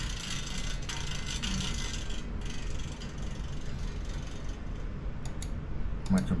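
A file rasps into a guitar nut slot with the string loosened, a steady close scraping texture with a few sharper clicks near the end.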